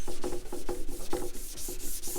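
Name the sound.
wet sanding paint with wet and dry paper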